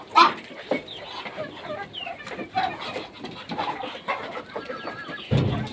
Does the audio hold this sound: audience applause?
no